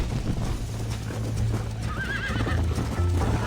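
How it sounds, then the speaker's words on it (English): A horse in Red Dead Redemption gallops with rapid clip-clopping hooves throughout, and a short whinny rises over the steady hoofbeats midway. "Let's go, Miss McFarland. Giddy up"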